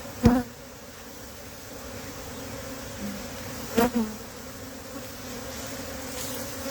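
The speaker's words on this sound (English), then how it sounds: "they're piling in. So let's get some more bees" A steady hum of many honey bees buzzing up close, with a couple of sharp knocks or taps breaking the drone.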